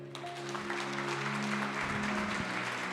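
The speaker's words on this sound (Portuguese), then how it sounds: "Se você concorda, aplauda ao Senhor" A church congregation claps in praise, a soft, steady patter of applause heard a little distant over a low sustained hum, with no voices on top.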